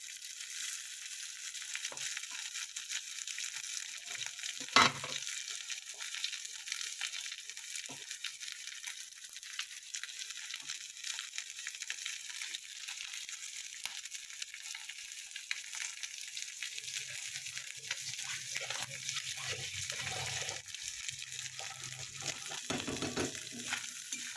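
Bhola fish frying in a hot pan, a steady crackling sizzle throughout with occasional stirring clatter and a faint low rumble near the end.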